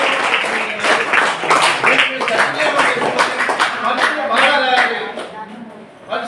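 A school audience claps to welcome three guests, a dense run of applause that holds steady for several seconds before thinning out at the end.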